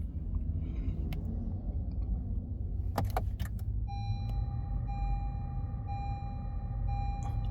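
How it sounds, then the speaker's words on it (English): A 2016 Honda Civic EX-T is switched on inside the cabin: keys jingle and click, then a steady electronic chime rings under a constant low rumble, with no voices. "Once you turn the vehicle on,"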